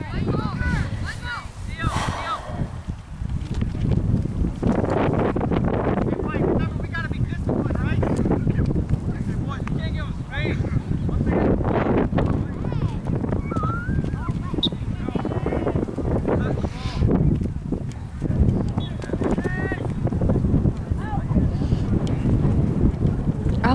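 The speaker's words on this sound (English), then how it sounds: "Oh, that stupid wind." Strong wind buffets a microphone outdoors, a constant loud rumbling roar that persists through the whole stretch, with voices talking underneath.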